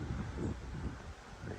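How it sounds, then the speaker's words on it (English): Wind gusting across an outdoor rail trail and buffeting the microphone, a low rumbling rush that swells and eases in short, uneven pulses. "The wind's really gonna kick up now."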